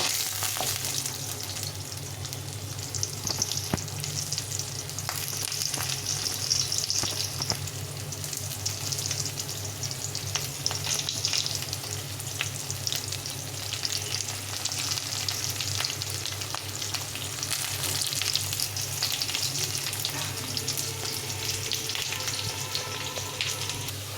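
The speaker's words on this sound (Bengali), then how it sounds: "একটু আলুটা ভেজে নেবো" Potatoes fry in mustard oil in a wok with a steady, close sizzle that runs through the whole stretch, and occasional stirring scrapes come through over it. No one speaks.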